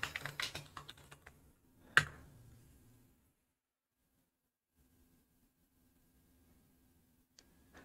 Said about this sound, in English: you're going to type in make HTML.